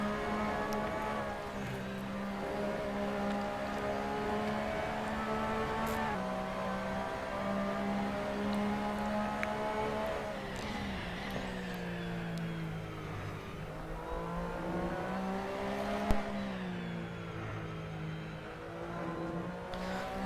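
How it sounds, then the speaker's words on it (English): A Porsche 911 RSR race car runs laps around the Nurburgring during a cup race, its engine a continuous droning roar that rises and falls through gear changes, heard steadily from trackside at moderate distance. "I'll let you enjoy the engine sounds of this Porsche 911 RSR round the"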